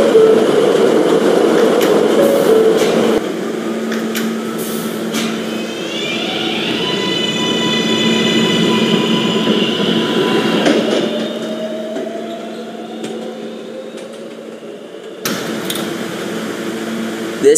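An R143 subway train on the D line in a Roblox game rumbles steadily along the rails, with a rising electric motor whine and clattering, loud and close throughout.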